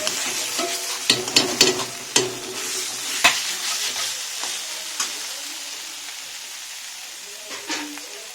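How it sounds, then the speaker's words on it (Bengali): Chicken biryani ingredients are stirred in a sizzling pan, with clustered spoon scrapes and clanks against the metal over a soft frying hiss that fades toward the end, heard close with no speech. "সব উপকরণগুলোকে ভালো করে নাড়িয়ে চাল দিয়ে দেবো।"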